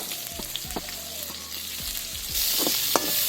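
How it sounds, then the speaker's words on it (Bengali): A large onion frying in hot oil left in the pan after meat, for mixed fried rice: a steady close sizzle with scattered spatula knocks and stirring clatter, growing louder and brighter toward the end. "ওই তেলের মধ্যে এখানে একটা বড় সাইজের পেঁয়াজ দিয়ে দেবো।"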